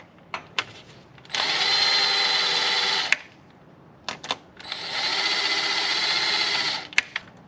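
An impact wrench works on the transmission bolts of a 1995 BMW E36 with an automatic gearbox, giving two close, steady high-pitched whirring bursts of about two seconds each, separated by a short gap with a few sharp clicks and knocks.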